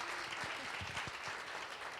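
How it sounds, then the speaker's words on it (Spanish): A church congregation claps faintly, welcoming a pastor, the sound low and somewhat distant, with a few low thumps scattered through it and no clear speech. "yo quisiera que le den la bienvenida con un aplauso, por favor"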